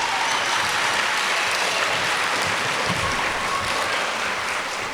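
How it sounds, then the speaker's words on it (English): Sustained, even applause from a school audience honoring a teacher, many hands clapping in a dense wash that holds steady for several seconds. "Let's give her a nice round of applause."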